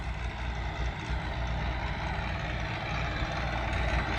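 A Massey Ferguson 1105 tractor runs during haying, its engine a steady, loud, unbroken drone with a strong low rumble and no pauses.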